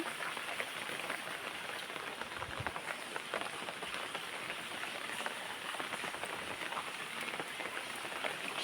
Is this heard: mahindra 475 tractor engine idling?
no